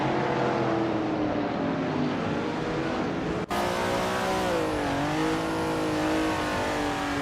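A Mazda RX-3 GTA race car in a racing video game drones steadily at high revs, its engine note holding, then dipping and climbing through a gear change, with the sustained tone continuing alone throughout.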